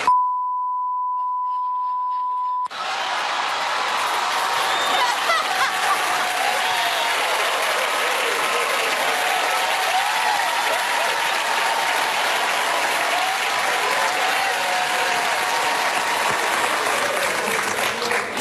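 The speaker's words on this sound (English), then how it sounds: "one of the biggest rounds of applause came when Robert De Niro, went off script and made a 2-word critique of the guy in the White" A Tony Awards audience bursts into loud, sustained applause that fills the hall, following a brief steady beep tone at the start.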